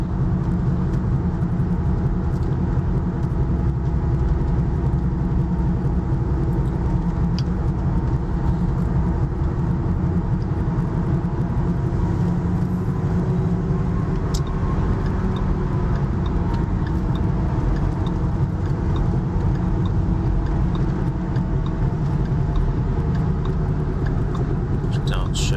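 A 2014 Ford Mustang V6 with an automatic gearbox drives along, giving a steady low engine drone and road rumble heard from inside the cabin for the whole stretch.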